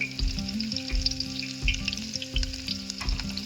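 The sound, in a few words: garlic and green chillies frying in oil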